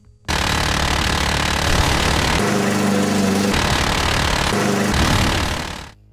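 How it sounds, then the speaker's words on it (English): A chain gun in the video game Call of Duty: Ghosts fires one continuous, loud mechanical burst for about six seconds, a droning, engine-like rattle that briefly shifts in pitch twice before cutting off. "does this chain gun sound more like a deadly piece of machinery or a lawnmower?"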